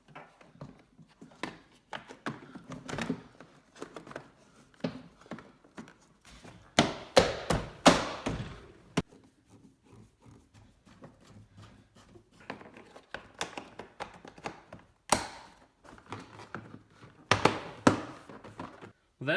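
A Toyota Tacoma door panel is pressed back into place, making scattered hollow knocks, taps and plastic snaps in uneven bursts, close by and moderately loud, with quiet pauses between.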